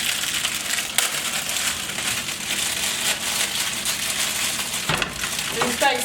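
Frozen steak frying in a hot pan on a stovetop burner, a dense steady sizzle and crackle filling the whole stretch, with a brief clatter near the end.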